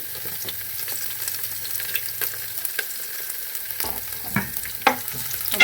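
Beef fry with garlic, ginger and green chilli sizzles steadily in a pan while a spoon stirs and scrapes now and then, close and continuous with no speech.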